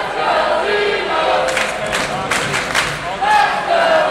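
A college hockey arena crowd at an Embry-Riddle versus Auburn game cheers and shouts in a loud, continuous roar, with a commentator talking over the noise.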